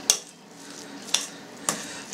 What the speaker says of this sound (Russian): Опять все перемешиваем.